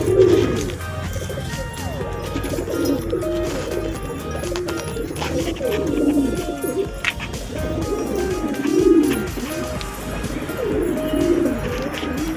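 Domestic pigeons in a home loft, including a hen sitting on eggs, coo repeatedly in overlapping low, throaty rolls, with occasional shuffling and knocks in the background.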